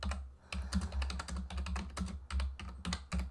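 Rapid, steady keystrokes on a computer keyboard, close and fairly loud, with no talking.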